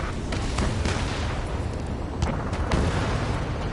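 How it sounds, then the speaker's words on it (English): Dense, continuous rumbling roar with repeated booming bursts and cracks from gunfire and jet engines echoing through city streets under martial law in the Ace Combat 7 video game, loud and sustained throughout. "Gunfire and the roar of jets echoing through the streets."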